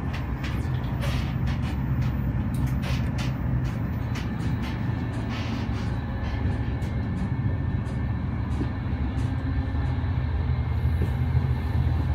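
Steady rumbling and rattling fill the interior of a fast-moving passenger train on a journey to Bangladesh, a constant loud roar with faint clicks and knocks scattered throughout and no voices.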